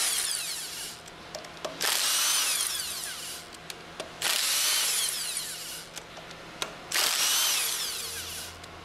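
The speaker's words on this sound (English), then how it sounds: "Use the impact wrench with a 10mm hex drive attached to remove the remaining 6" A power tool, an impact wrench with a 10mm hex drive, runs in three loud bursts of whirring and rattling while removing retaining bolts on the packing stack of an HF pump, with brief pauses between bursts.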